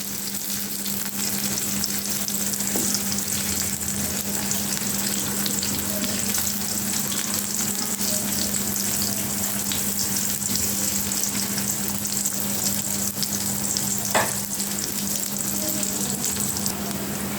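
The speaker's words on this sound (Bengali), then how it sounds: "এবার পেঁয়াজগুলো তেলের মধ্যে বাদামি কালার করে ভেজে নেব।" Chopped onions frying in hot oil in a pan, a loud steady sizzle and crackle running continuously with occasional stirring clicks, close up and without speech.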